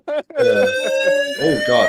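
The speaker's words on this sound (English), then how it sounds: "Oh God, whose alarm's going off?" A phone alarm going off during a chat, a loud steady electronic tone that sounds close by, with people briefly talking and exclaiming over it.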